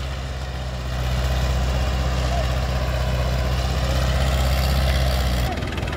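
A 1972 International 276 tractor made in England runs at a steady, deep idle with a low rumbling thrum, loud and close, before the engine note drops off near the end.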